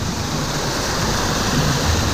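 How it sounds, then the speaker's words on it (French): A waterfall on an amusement park water ride pours in a steady, close, full rush of splashing water with no break. "Oh, il y a des cascades."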